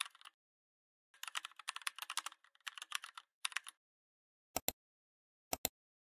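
Typing a formula on a computer keyboard while setting up a spreadsheet rule: a quick run of close keystrokes, a brief pause, then a few isolated louder key taps, all near and clear with no talk.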